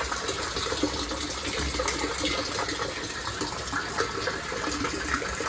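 Rainwater pours and gushes steadily into a repurposed olive barrel, a dense rushing splash that holds constant throughout with no voices.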